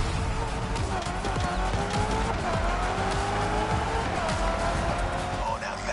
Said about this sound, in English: A good old-fashioned off-the-grid competition and a mean muscle car to kick everyone's butt.